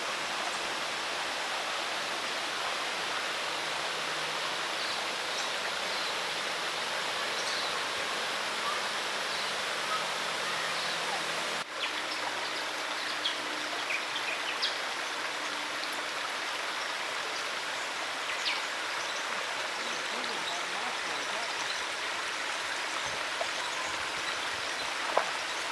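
Small stream at the top of Russell Falls in Tasmania, a steady close broadband rush and babble of flowing water with no voices.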